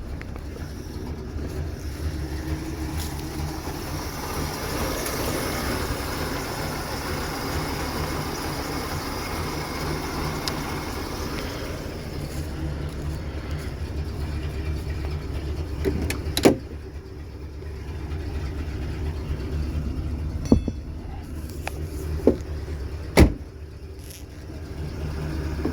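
A 1977 Ford LTD Landau idling with its engine running, a steady low rumble heard from nearby, with a few sharp clicks and knocks later on and no talking.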